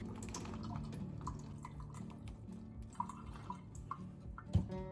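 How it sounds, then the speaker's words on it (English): Soaked chickpeas are drained and rinsed under running water, a steady close splashing and trickling with a few small clatters and a sharper knock near the end, no speech. "After soaking, I'm going to drain and rinse the chickpeas."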